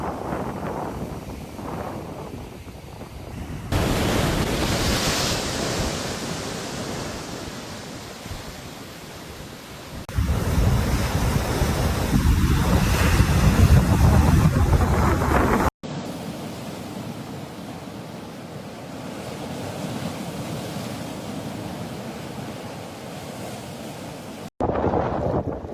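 Storm surf from a hurricane pounding the Outer Banks coast of North Carolina, a loud continuous roar of crashing waves and wind noise across several cuts, with no voices.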